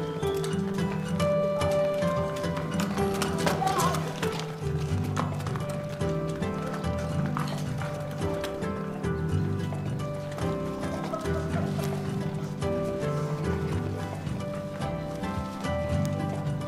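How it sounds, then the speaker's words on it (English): Cows let out of a barn in spring after a winter indoors, their hooves clattering and thudding steadily at close range over a continuous tonal, music-like background. "Look at these cows released from a barn in spring after being holed up all winter."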